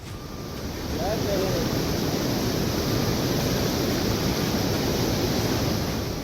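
The Godavari River in Nashik, swollen by torrential monsoon rain, rushes with a loud, continuous broadband roar that swells after the first second and then holds steady.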